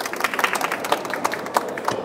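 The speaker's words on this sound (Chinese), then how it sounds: "请掌声鼓励" Scattered applause from an audience at a Catholic lecture at the Taipei International Book Exhibition, a steady patter of clapping with a few louder individual claps throughout.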